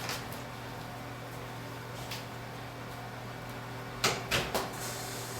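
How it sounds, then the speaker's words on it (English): A shop vac draws hot air off freshly roasted Kenyan coffee beans to speed cooling, a steady broadband whoosh with a low hum running throughout, a few sharp knocks and clatters near the end. "still you kind of hear the shop vac"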